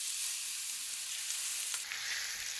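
Beef brisket searing in oil in a hot pan, a steady, bright sizzle that holds constant throughout with a brief clink partway through, alone and close.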